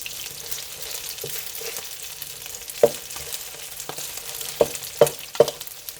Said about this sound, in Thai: ทอดให้กรอบนะคะทักแป้งให้กรอบก่อนนะคะ